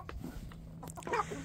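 Soft chicken clucking with a few short calls, a little louder near the end, over a low steady hum.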